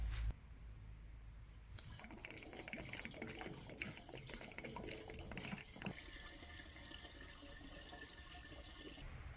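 Fuel pours steadily from a canister into a mini excavator's tank with a gurgling, splashing rush, starting after a brief thud and continuing without talk.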